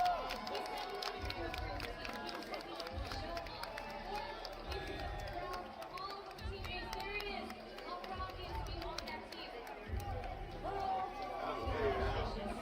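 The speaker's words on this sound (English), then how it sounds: "You can hear me cheer for Tokido in a second." Spectators at a fighting game tournament cheer and chatter in a lively, shifting roar, with nearby voices talking over the crowd noise.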